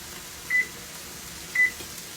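Two short electronic beeps from an oven control panel as it is set to preheat to 350 degrees, spaced about a second apart over a faint kitchen hum.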